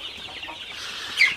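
Sonali super hybrid chickens, 38 days old, cluck and chirp in a poultry shed, with a brief louder squawk near the end.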